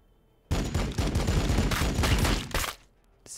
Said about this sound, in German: Volle Präzision und einmal darauf Feuer, bitte.